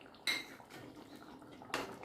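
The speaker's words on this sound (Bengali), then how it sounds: "সব কিছু একসাথে ভালো করে মিশিয়ে নিচ্ছি।" Utensil stirring matar paneer curry in a pan, with two distinct clinks of metal against cookware about a second and a half apart over a quiet background.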